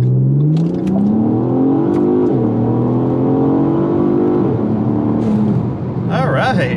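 A car tuned on 93 octane accelerates hard from 0 to 60 mph, its engine note climbing through rising revs with a gear change mid-run, loud and close, then easing off at the end.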